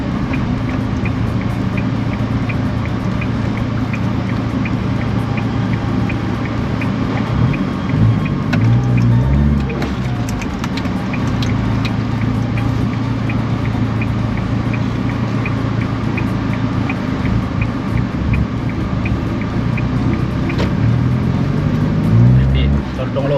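A tuned 1.9-litre drag car drones steadily as it accelerates, with brief dips where gears shift around 4,000 rpm, heard from inside over constant road and engine noise with a voice talking now and then.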